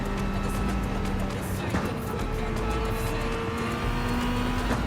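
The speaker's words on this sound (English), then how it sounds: "Love the roar of the engine of this car too." Engine of a 1999 Toyota GT-One TS020 race car in a VR racing game, a steady droning roar with shifting pitch as the car winds through corners, continuous and fairly loud throughout.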